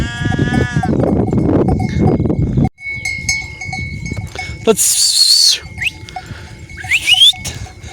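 Sheep and lambs bleat loudly and repeatedly on a highland summer pasture, overlapping calls near and far, with a cowbell clanking in the background.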